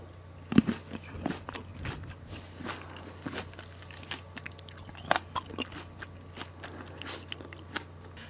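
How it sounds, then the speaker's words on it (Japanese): Close-up crisp bites and wet chewing crunches of Shine Muscat grapes from Tsuwano, irregular and fairly quiet, repeating over several seconds without talk. "シャインマスカットを食べてみましたので、音の方ですね、ちょっと確認してみてください。"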